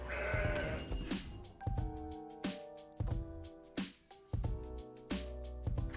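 Bleating goat calls from the Mountain Goat card in the card game Legends of Runeterra, sounding over rhythmic game music that pulses in repeated bursts.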